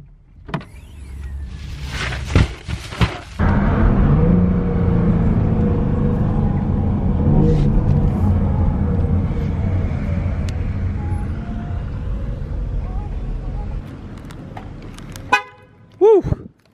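A car drives along with a steady low engine and road rumble, preceded by door and power window sounds and a few short toots near the start, with more clunks near the end.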